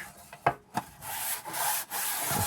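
Abrasive Scotch-Brite pad scrubbing a vintage Lisk metal lunch pail, a close, dry rubbing rasp in uneven strokes with a couple of sharp scuffs early on, then a steady gritty scouring broken by brief pauses.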